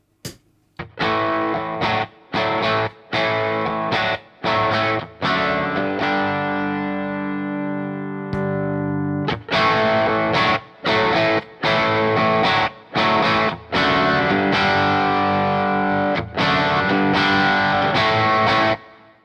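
Electric guitar played through an AMS DBA 50 amp on a distorted Plexi-style channel, loud chugging chords and short stabs separated by brief gaps, with one long ringing chord in the middle, no talking.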